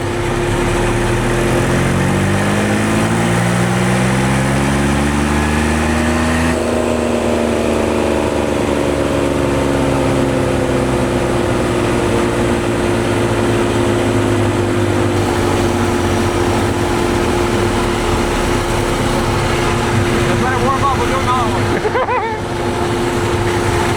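A turbo diesel engine fitted in a John Deere Harley runs hard on a dyno, a loud sustained drone whose pitch sweeps downward and then holds steady, with a faint whine and a brief dip near the end.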